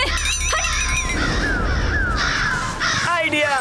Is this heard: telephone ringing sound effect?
no